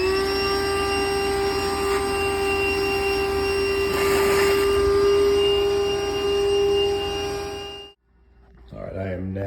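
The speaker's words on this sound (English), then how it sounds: "before I turn this shop vac on, you won't be able to hear me." A shop vac sucks out an AC drain line, roaring loud and steady with a high whine close by, then cutting off near the end, after which a voice starts to speak.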